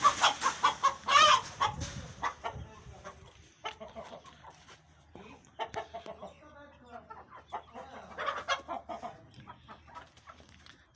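Desi farm chickens cluck and squawk close by in a busy, continuous chorus of overlapping calls, with a rooster-like cry near the start and a voice faintly heard underneath.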